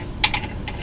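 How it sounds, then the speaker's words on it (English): A 14 mm wrench ratchets a bolt out of a trailer tongue jack mount, giving a few short, sharp metallic clicks over a quiet background. "I'm using a 14 millimeter wrench here, taking these 3 bolts out"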